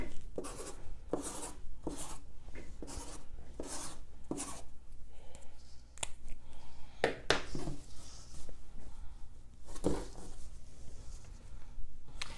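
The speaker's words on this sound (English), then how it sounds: "now we're going to use the marking pen, and we're going to mark for the face side" A marking pen scratches and rubs across fabric in quick strokes, dry scraping and tapping in an uneven rhythm, close up, with no voices.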